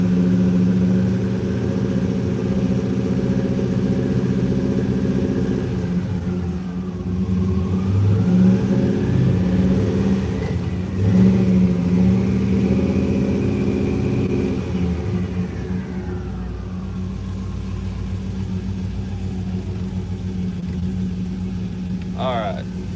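An LS7 V8 in a 1956 Chevrolet Bel Air chassis runs up through throttle blips, a close, rumbling engine whose pitch rises and falls in slow revving swells, with a person talking over it.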